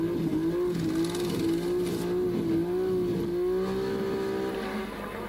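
1986 Formula 1 race cars at the Detroit Grand Prix street circuit, a high engine whine held steady with slight pitch wavers as a car runs past and lapses traffic, fading slightly at the end; no speech.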